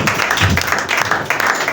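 Church congregation applauding and cheering during a French-language Christian service, a loud, dense burst of clapping with raised voices mixed in.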